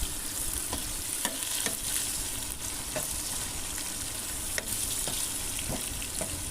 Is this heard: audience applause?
no